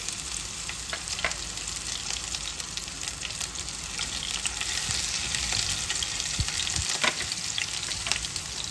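Chopped vegetables, including green chilies and beans, fry in hot oil for masala pasta, giving a constant close sizzle with occasional crackles and stirring scrapes and no voices.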